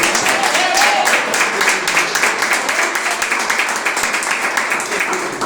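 A church congregation claps together for Jesus, the applause loud, rhythmic and sustained, with voices mingling through the clapping.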